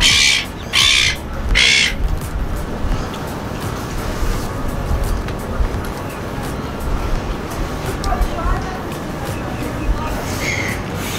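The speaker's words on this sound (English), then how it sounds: "There's so many birds." Crows and other birds caw and call repeatedly at Sydney Fish Market, the cries bursting loudly at first and then continuing more faintly over a steady bed of traffic and crowd noise.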